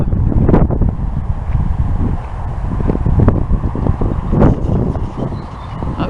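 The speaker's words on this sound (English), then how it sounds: "hope there's not too much wind" Wind buffets a microphone outdoors near a wood by a busy road, heavy low rumbling gusts that rise and fall in uneven bursts, loud and close, with no talking.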